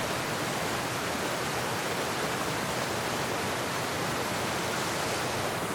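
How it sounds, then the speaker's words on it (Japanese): Snowmelt water rushes down a mountainside in a dense, steady roar like a torrent or waterfall, loud and unbroken throughout with no voices. "雪の名残が激しい音を響かせながら山を駆け下りていきます。"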